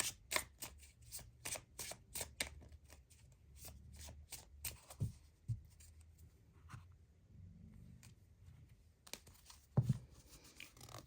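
Oracle cards from a Forest Friends deck are shuffled close up in a quiet room, a quick run of soft riffling flicks, then slower slides and taps as individual cards are drawn and laid down, with a brief burst of shuffling again near the end.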